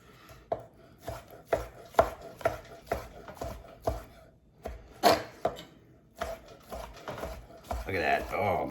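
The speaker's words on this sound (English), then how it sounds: "I'll just do a quick rough slice through those." Knife chopping rhythmically through smoked beef tenderloin medallions on a board, a quick rough slice of about a dozen close, firm cuts in steady succession with brief pauses, ending in a softer rustle.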